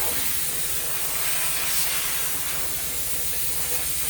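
Steady steam hissing from a steamer held to a hand-spun yarn skein to set its twist, broadband and continuous at close range for the whole stretch, with no voices.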